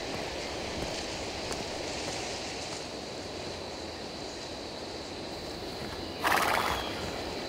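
A horse whinnies and its hooves clip-clop amid a steady, busy outdoor background, with a louder burst near the end; no one speaks.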